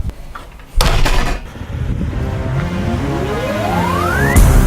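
A car door slams shut on a new car with a loud single thud, followed by a steady engine-like hum whose rising whine climbs gradually, then a second bump near the end.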